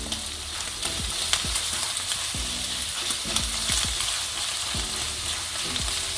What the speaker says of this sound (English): all the fat is melting, and this is going to be very useful to begin to cook the onion